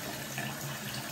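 Water drains from a newly installed bathroom sink faucet into the basin, a steady, even rush of splashing flow that carries on alone without pause.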